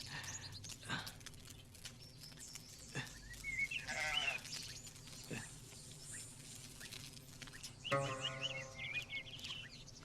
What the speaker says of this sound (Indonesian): seekor domba kecil terbaik.